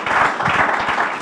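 Church congregation applauding, a dense, steady burst of many hands clapping together, brief and fairly loud.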